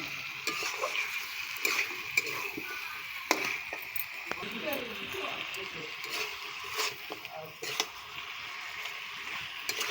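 Large chicken leg pieces fry and sizzle in a pan over a small wood-fired clay stove on a veranda, with a steady crackle and sharp, irregular scrapes and clatters of stirring close by, with talk underneath.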